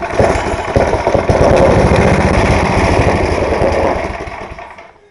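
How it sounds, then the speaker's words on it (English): Small snowblower or lawn mower engine running on no choke, a close, loud, rapid putter that runs steadily before sagging and dying away toward the end. "You have it on a full choke with halfway throttle. It stays running."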